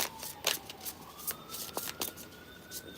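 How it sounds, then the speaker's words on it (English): A deck of tarot cards being shuffled close by, a run of quick papery riffles and flicks repeating over a few seconds, with no talking. "I shuffled from the same deck and I kept getting the same cards."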